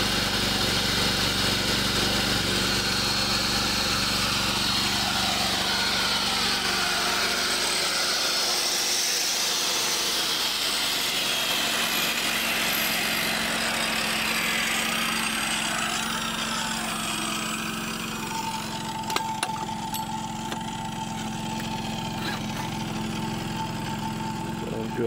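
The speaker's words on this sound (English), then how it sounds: "saw is definitely making more noise than the generator." Harbor Freight Predator portable generator droning steadily while a miter saw runs nearby, the saw's whining cut rising loud over the engine for most of the span, then easing to the generator's hum with a few clicks near the end.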